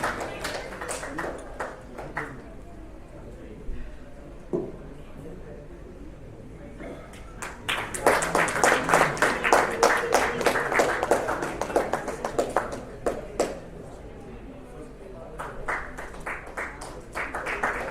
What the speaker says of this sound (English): Can you have a bigger round of applause for him?